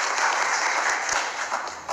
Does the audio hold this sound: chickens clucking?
no